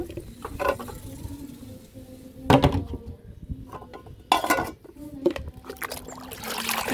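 Liquid sloshes and swishes in a container as homemade organic garden fertilizer of rice-washing water and buttermilk is stirred, in a few louder bursts separated by quieter pauses, close by.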